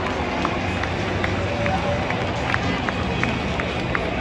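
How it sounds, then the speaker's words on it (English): Baseball fans at Camden Yards keep up rhythmic, evenly spaced claps over a broad crowd roar, the stadium din steady and continuous with talk mixed in. "You can hear all the fans chanting and clapping, even though that's the opposing team there."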